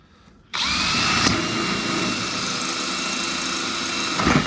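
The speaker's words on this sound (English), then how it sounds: "I'm going to drill a hole here for the float." A power drill bores a hole for a float in a bucket or barrel for an automatic chicken waterer, starting abruptly and whining steadily at high pitch up close, with a brief strain near the end.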